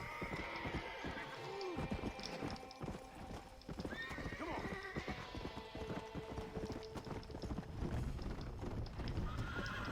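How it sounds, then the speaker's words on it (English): Horse hooves clip-clop steadily as a horse is ridden in the zombie video game Red Dead Redemption: Undead Nightmare, with whinnies and neighs over the rhythmic galloping and a faint voice speaking underneath. "All I'm doing is riding the horse."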